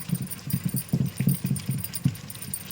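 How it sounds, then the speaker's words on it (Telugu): Rhythmic thudding and knocking as green chillies are pounded in a stone mortar for tomato chutney, quick repeated strikes at a steady pace, close by with no talking. "ఇప్పుడు పచ్చిమిరపకాయలు రోట్లో వేసి నూరడం జరుగుతుంది"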